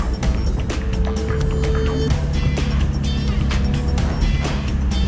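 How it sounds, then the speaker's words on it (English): Car driving slowly at low revs along a forest trail, with a steady engine drone and continuous loose rattling clatter throughout, close and fairly loud. "That rattle. I hate the rattle."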